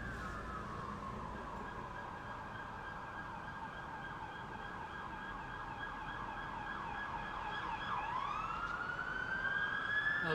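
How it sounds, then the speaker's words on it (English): Police car sirens race down a city street, a long steady wail sliding into a sharp rising whoop near the end, loudening as the cars approach over background traffic noise. "Oh, these are cops now."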